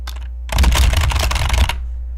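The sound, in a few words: typing text on a keyboard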